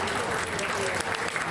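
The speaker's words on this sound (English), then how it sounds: "Big round of applause for Afiq and his team." Dense, steady audience applause at a Malaysia SEA Games esports opening ceremony in Sarawak, a continuous wash of many hands clapping throughout.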